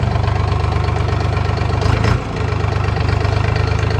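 The engine of a Dongfeng 244DHX tractor idles close by with a steady, low diesel thrum and a brief dip near the middle, with no voices.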